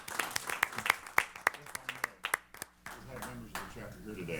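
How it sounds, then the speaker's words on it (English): Applause at an aviation association meeting, a small audience clapping in sparse, distinct claps that thin out after a few seconds, with a voice speaking near the end. "let's give a little round of applause for Chapter 24"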